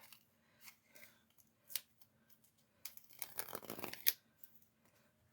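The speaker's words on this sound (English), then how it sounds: "So I'm going to get out my paper snips" Quiet, close snipping of paper snips through soft foam strips, a few isolated cuts followed by a quick burst of repeated snips.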